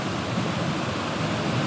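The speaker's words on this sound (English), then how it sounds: "I hope they can hear me over the rush of the water here" A waterfall rushes beside a church, giving a loud, steady broadband roar of falling water with no pauses, heard up close.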